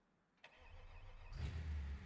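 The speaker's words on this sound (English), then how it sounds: "Ah, the beautiful sounds of that Duramax." Duramax diesel truck engine cranking and firing up in the BeamNG.drive driving game, a brief starter whir followed by the engine catching and settling into a loud, deep idle.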